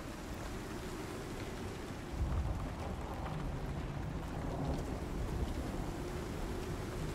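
Steady rain with low rumbling storm noise in the Icarus survival game, a continuous wash that swells slightly after the first couple of seconds and carries on without speech.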